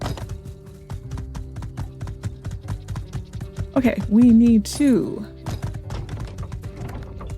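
Rhythmic clip-clop of horse hooves in the My Time at Sandrock video game, a steady close trot throughout, with a horse whinny midway and a person talking over it.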